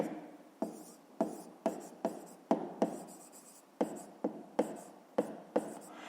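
A math exercise is written by hand on paper, with about a dozen short, close scratching pen strokes in an uneven rhythm, separated by brief pauses and no talking.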